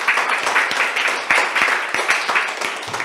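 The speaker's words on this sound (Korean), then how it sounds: "큰 박수 좀 부탁드리겠습니다" Applause from an audience at a public talk event, a dense, steady patter of many hands clapping that stays fairly loud for the whole stretch, with no voices over it.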